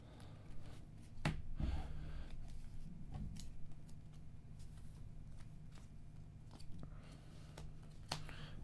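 Playing cards from a Mafia Gauntlet print-and-play game being shuffled up close, a few quick riffling bursts and soft slaps amid light handling noise, with no voices.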